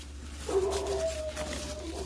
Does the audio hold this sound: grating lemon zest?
no